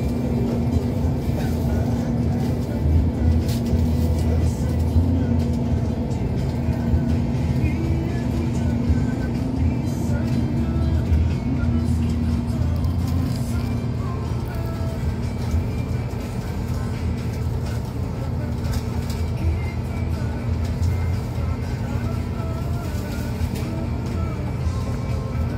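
Buses idle and rumble at the Magelang bus terminal in Indonesia, a steady low engine drone with a constant hum that runs throughout. Faint talk drifts through the background.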